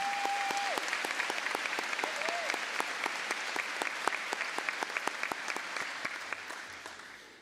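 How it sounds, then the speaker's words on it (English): A high school graduation crowd gives a long round of applause, a dense, steady patter of many hands with sharper individual claps and a short whistle near the start, before it thins and fades out. "Please join me in giving them one more well-deserved round of applause."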